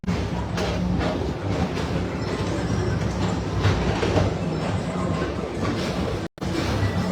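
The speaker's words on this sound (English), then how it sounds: "Don't worry, your express train keeps on rolling through the future" Tomorrowland PeopleMover train gliding along its elevated track, a steady close rolling rumble and rattle with faint clickety-clack, continuous throughout apart from a brief cut near the end.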